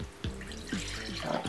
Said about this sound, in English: And then I'm just going to pour it back into my measuring jug.